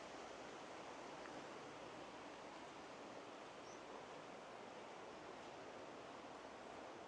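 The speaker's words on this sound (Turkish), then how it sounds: "Köyün içinden böyle harika bir dere geçiyor." A stream runs through a village among hazelnut trees, giving a steady, close broadband rush of flowing water with no break and no voices.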